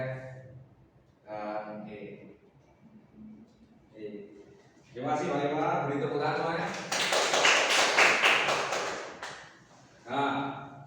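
Brief burst of classroom applause during a ninth-grade microteaching math lesson, a couple of seconds of dense clapping rising amid and overlapping with spoken voices.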